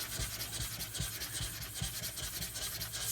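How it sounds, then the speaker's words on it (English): A water sharpening stone is rubbed back and forth on a lapping plate in a steady rasping rhythm, each stroke a gritty scrape, close and fairly quiet with no talk. "It's not a bad idea to always lap your stones when you first get them."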